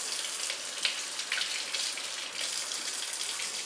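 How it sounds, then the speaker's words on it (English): Warm water runs steadily into a foaming soap dispenser partly filled with soap, a continuous close splashing gush with no talking. "So you'll just fill that rest of the way up with water."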